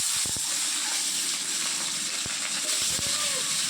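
Eggs fry in too much overheated oil in a scorched wok, giving a loud continuous sizzling hiss with a few sharp pops, while a person talks over it.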